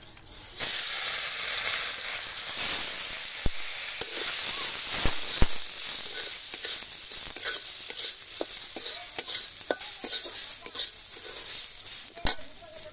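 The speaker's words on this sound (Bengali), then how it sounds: "এখন পোলাও চালগুলো ভেজে নেব।" Polao rice frying in a pan while being stirred, a steady close sizzle broken by repeated scraping clicks of the spoon against the pan, with no talking.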